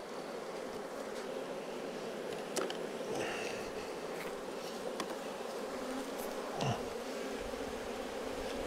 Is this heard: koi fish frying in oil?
no